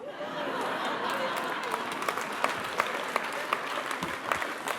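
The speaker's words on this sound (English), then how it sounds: "A round of applause." Crowd at a design awards event applauds a speaker's introduction, a full burst of clapping with some chatter and light laughter mixed in.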